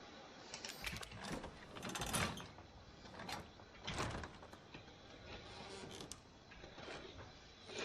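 In a video game, a door unlocks and slides open with several quiet mechanical clunks and rolling, grinding surges spread across the clip.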